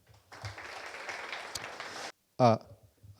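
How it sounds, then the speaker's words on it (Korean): Applause for researchers and a professor at a blockchain mainnet launch event rises for about two seconds as a moderate wash of clapping, then stops abruptly before a brief voice speaks. "연구원들하고 김영식 교수님께 박수 부탁드리겠습니다"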